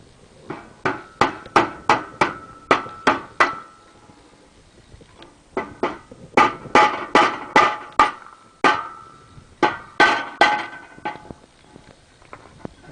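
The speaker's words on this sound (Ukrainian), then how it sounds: "беремо молоточок і забиваємо" Rapid series of light, sharp taps from a small hammer on cut pieces for turbo discs, struck in quick bursts of about seven to ten blows with short pauses between.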